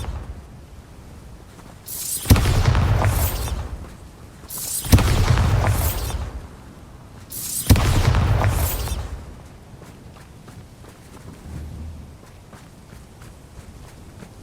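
Bombarda spell explosions in the video game Hogwarts Legacy: three heavy, booming blasts a few seconds apart, each with a deep rumble that trails off, loud and close.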